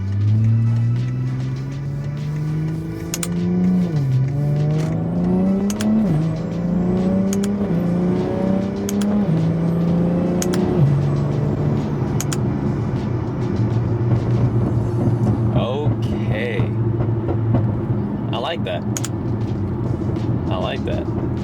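A BMW G-chassis car pulls hard from first gear with paddle shifts, engine revs climbing repeatedly and dropping at each quick upshift, loud and close from inside the cabin, with people talking over it.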